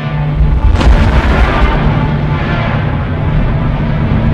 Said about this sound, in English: There must have been a powerful explosion several kilometers above the ground.